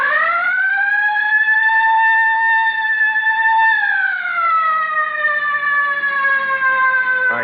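A police car siren wails loud and close, holding a steady rising tone before sliding smoothly downward in a long sweep, with no voices over it.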